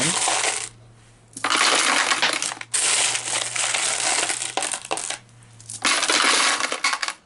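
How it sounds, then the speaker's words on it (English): Nickels clatter down into an empty coin hopper in several loud bursts separated by short pauses, a metallic jingling and rattling with no talk. "put enough coins in"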